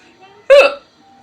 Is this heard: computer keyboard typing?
no